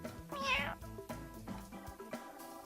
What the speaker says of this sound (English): Jay Leno provided meows for Cartman's cat.